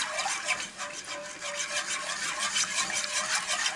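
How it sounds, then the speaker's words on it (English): A whisk scrapes steadily through simmering sauce in a cast iron pan, making quick, rhythmic rasping strokes that stay close and fairly soft, with no talking. "Just keep whisking that in."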